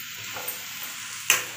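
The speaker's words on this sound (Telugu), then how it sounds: "దాంట్లోనే బీట్రూట్ ఫ్రై చేస్తున్నాను అన్నమాట." Beetroot frying in a pan with tempering and papad, a soft continuous sizzle heard close, with a faint tap midway and a sharp clink near the end.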